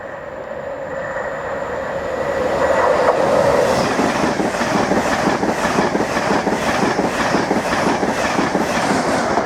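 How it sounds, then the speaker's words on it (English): An Intercity 225 train races past at close range, swelling into a loud roar after a few seconds, with rhythmic clickety-clack of wheels over rail joints repeating steadily to the end. "we just had a second Intercity 225 set race through"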